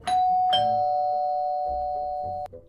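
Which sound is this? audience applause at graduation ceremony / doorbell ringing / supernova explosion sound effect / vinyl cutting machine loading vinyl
doorbell ringing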